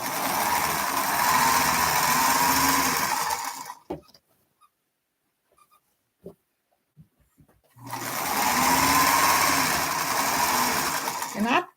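A sewing machine stitches quilt pieces together in two steady, whirring bursts of several seconds each, separated by a quiet pause with only a few small clicks.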